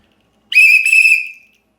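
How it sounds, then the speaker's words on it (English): A hard plastic survival whistle from a survival kit gives one loud, shrill, steady blast of about a second, close up with no voices. "that one is very loud. It's extremely loud too."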